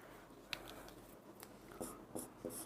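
Quiet scratching and tapping of writing on a board in a physics classroom, a few short strokes spaced across a brief, faint stretch with no talking.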